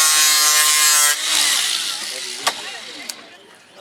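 An electric sander works down a wooden rib, starting with a steady buzzing motor whine for about a second, then shifting to a rougher, fading rasp of abrasive on wood, with a few sharp knocks and voices nearby.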